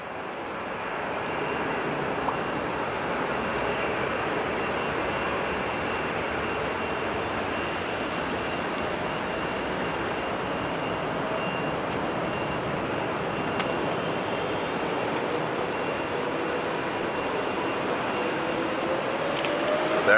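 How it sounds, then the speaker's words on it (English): A jet airliner on the Delhi flight roars past at Amsterdam, a broad steady engine rumble lasting the full stretch, loud and sustained with little change, and faint voices now and then beneath it. "There goes the Delhi flight."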